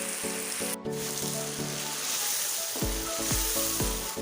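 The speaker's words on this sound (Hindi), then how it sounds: "मीडियम फ्लेम पर कोफ्तों को मिसाले में तकरीबन 5 मिनट के लिए भूनना है" Chicken koftas fry in spice masala over medium flame, making a loud, dense sizzle with a continuous crackling hiss and several heavier stirring scrapes toward the end.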